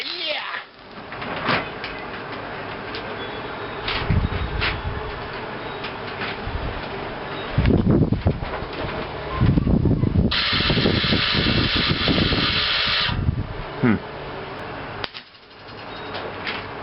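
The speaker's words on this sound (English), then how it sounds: "Now it's time to try welding with it and see if it works." Welding on a homemade reverse trike build, heard as intermittent hissing, crackling bursts of arc with pauses between them. Short exclamations and talk come in between the welds.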